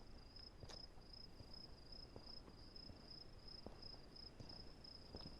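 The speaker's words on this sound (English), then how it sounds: "You hear the night sounds of crickets in the hedge" A single cricket chirps at night in a hedge, a steady, continuous high trill, quiet and alone against faint background hiss.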